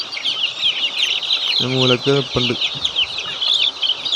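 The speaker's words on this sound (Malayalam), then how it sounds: "അപ്പോൾ അതിൻ്റെ ഇടയ്ക്ക് ഫയോമി കോഴി കുഞ്ഞുങ്ങൾ 2-3 ചാടി കയറിയിട്ടുണ്ട്" Young Fayoumi cross Sonali chicks crowd a brooder, filling it with a dense, continuous high peeping and cheeping. Someone speaks briefly in the middle over the steady chorus.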